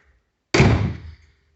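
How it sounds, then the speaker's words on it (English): A door swings shut onto an electric strike fitted with a Yale night latch, giving one sharp, close thud with a brief rattling decay and no voices. "And if I shut the door"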